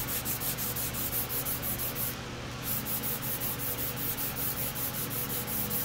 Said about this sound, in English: this sandpaper cuts really, really, really quick, which is awesome